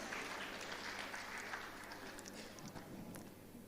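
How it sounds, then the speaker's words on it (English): Applause from the audience at a climate change summit in Lagos, a faint, distant spread of clapping that thins out toward the end. "So I believe we deserve another round of applause."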